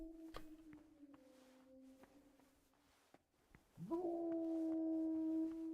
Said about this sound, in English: I love how my dog has been howling for me the entire game at this point.